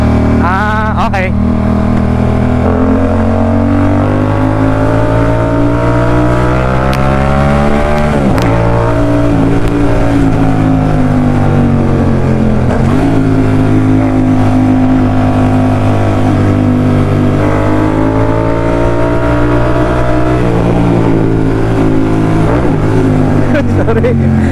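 A BMW F900R motorcycle revs and accelerates loudly and close by, its engine note rising and falling in steady waves while people talk over it.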